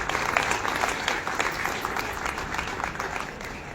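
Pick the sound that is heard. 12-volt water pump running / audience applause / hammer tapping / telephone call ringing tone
audience applause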